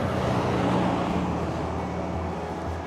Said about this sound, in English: I don't particularly like going on this main road because it's so noisy with all cars